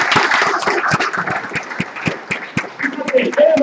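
Crowd at a lecture applauds with dense, brisk clapping spread across the room, fairly loud, with scattered voices mixed in.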